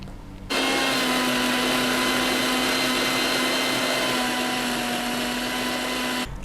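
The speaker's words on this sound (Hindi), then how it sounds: "अब इसको हम ग्राइंड कर लेते हैं।" A kitchen mixer grinder blends tamarind pulp and mint into chutney, starting abruptly with a loud, steady, high-pitched whir that runs unbroken for about six seconds and then cuts off.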